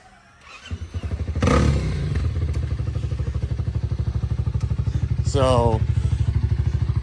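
Dirt bike with a modified exhaust, ridden daily, starts up and idles loudly and close by with a rapid, lumpy exhaust pulse, blipping once mid-clip; a person speaks briefly near the start.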